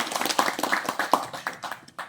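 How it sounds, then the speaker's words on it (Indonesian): Scattered hand clapping from a small audience at an outdoor fruit-tree planting gathering, a brisk uneven patter of claps close by for about two seconds. "Tepuk tangan buat kita semua."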